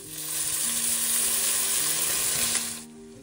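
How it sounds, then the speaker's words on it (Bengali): Vegetables fry in a pan with a steady, close crackling sizzle that holds for about three seconds, then drops away near the end; no one speaks. "এই যে সবজিগুলোকে ভেজে নিয়েছি,"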